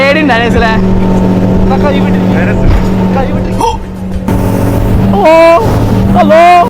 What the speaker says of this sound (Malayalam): നമ്മൾ അവിടുത്തെ സ്പീഡ് ബോട്ടാണ് ചൂസ് ചെയ്തിട്ടുണ്ടായിരുന്നത്